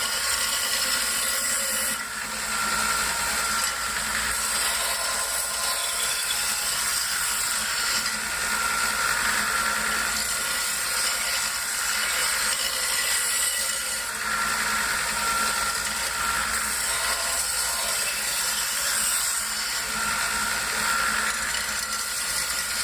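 A knife blade is drawn across the abrasive belt of a Stinging Edge belt sharpening system in alternating passes, a continuous gritty hiss over a steady motor hum, close and unbroken with no voices.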